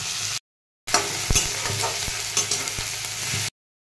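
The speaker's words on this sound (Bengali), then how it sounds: "এগুলোকে দিয়েও আমি ভালো করে একটু ভেজে নেব, টমেটোগুলো যেরকম একটু নরম হয়ে উঠে।" Chopped tomatoes and onions frying in a pan, a soft continuous sizzle broken by spatula scrapes and taps, close and fairly loud, with a short silent gap at the start.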